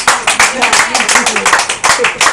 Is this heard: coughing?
no